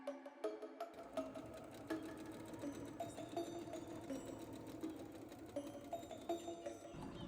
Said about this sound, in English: So the first thing I do is sew together the darts on the bust and the back bodice pieces.